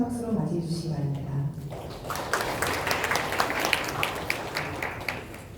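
Applause at a symposium marking the Gumi industrial complex's 50th anniversary at the Gumi Chamber of Commerce. A voice speaks first over a low hum, then scattered clapping builds and carries on to the end.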